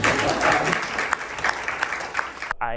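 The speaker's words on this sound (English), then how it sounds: "You can clap if you want." An audience at a downtown dance company claps steadily, a dense wash of many hands that carries on without a break and then cuts off abruptly near the end.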